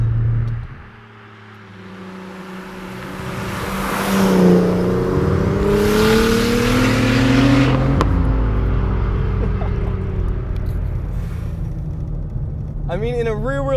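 A 675 hp turbocharged BMW E36 M3 accelerates hard, its engine note climbing steadily in pitch as it pulls through the revs, loud and close, then cuts off for a shift before building again with a faint high whine near the end.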